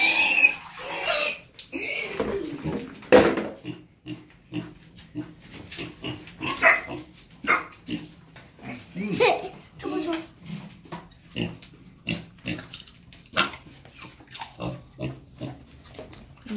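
A mini pig grunts and oinks repeatedly in short bursts during a bath, with splashing water and people talking intermittently nearby.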